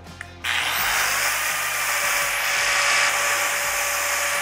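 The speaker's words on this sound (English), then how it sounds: "But what if we added a grinder onto that?" A Milwaukee grinder powered from a roll-on power supply spins up and keeps running at a steady, loud, high-pitched whine with a constant motor drone and no voices.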